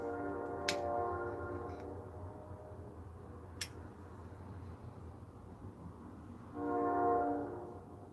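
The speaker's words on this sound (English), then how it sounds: "There's the train." Train passing at a distance with two horn blasts, a low steady rumble of rolling cars underneath, a few sharp clicks, fairly faint throughout.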